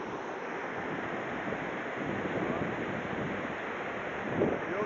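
Water pours over the lip of the Pancada Grande waterfall in Ituberá, Bahia, a steady, close, broadband roar with no letup and no talk.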